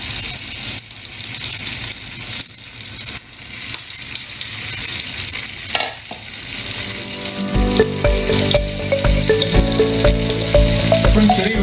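A bread sandwich for French toast fries in a pan with a loud, continuous close sizzle that grows denser and crackles more in the latter half.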